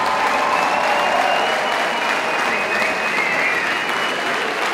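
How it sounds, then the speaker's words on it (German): Steady, loud applause from a large audience, continuous clapping throughout with no voices on top. "Riesengroßen Applaus dafür."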